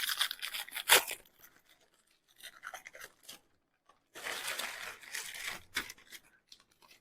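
Ritz crackers being smashed inside a gallon Ziploc plastic bag, giving bursts of crinkling plastic and crunching, with a sharp crack near the start and a longer stretch of crushing later, all close up and with no talking.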